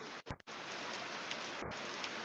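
Rain pours steadily in a dense, loud hiss close by, with a couple of brief dropouts near the start and no talking over it.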